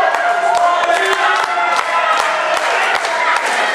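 Crowd at a live wrestling show claps in loose, repeated rhythm beneath constant cheering and shouting, loud and continuous throughout.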